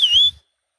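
A person whistles a single short, bright tone that bends slightly in pitch, loud and close, then cuts off into silence.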